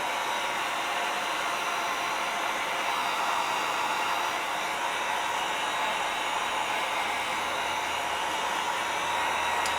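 A hair dryer blows steadily and loudly to dry wet craft acrylic paint on a scale model build, a constant close hiss with no breaks and no talk.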